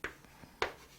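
Chalk or a pen writes math on a board in two faint short strokes about half a second apart, with a soft tap between them.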